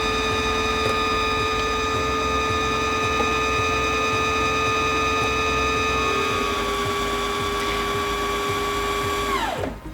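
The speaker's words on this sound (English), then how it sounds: "Step on the foot control to resume winding, and if you want it to run a little bit faster, you can come here to the front of your machine and press your speed control." A Singer Featherweight C240 sewing machine winding a bobbin gives a steady high motor whine with a constant pitch, close and loud, then winds down and stops near the end.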